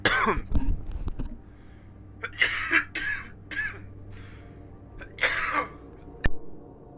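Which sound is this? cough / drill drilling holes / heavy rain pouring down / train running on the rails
cough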